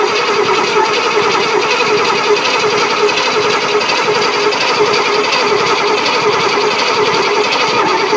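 Junkyard Cadillac engine cranking and running rough, a steady, loud mechanical whirring drone with dense rattling texture that continues without pause throughout.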